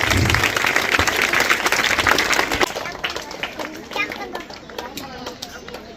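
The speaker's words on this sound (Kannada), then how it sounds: "ಎಲ್ಲರೂ ಚಪ್ಪಾಳೆ ಮುಖಾಂತರವಾಗಿ ಸ್ವಾಗತವನ್ನು ಕೊಡಬೇಕಾಗಿ ಅವರಲ್ಲಿ ವಿನಂತಿಸಿಕೊಳ್ಳುತ್ತೇನೆ" An audience at a religious discourse held at Shri Shivakumareshwara school in Mulasavalagi applauds to welcome a guest. Dense, loud clapping fills the first half, then thins into scattered claps that fade out.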